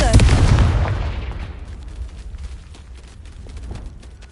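Confringo fire spell from the Hogwarts Legacy video game bursts in a loud, close explosive boom that decays into a rumbling tail and fades over several seconds.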